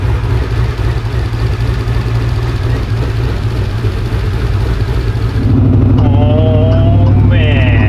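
A Ford F150 prerunner truck's engine runs with a steady low rumble throughout, swelling louder near the end as it revs, with a faint rising whine above.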